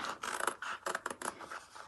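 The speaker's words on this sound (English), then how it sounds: "I want to grab my scissors and I'm going to cut that out." Quiet, close-up snipping and rasping of craft scissors cutting through material for an espadrille dust bag, several short cuts in quick succession.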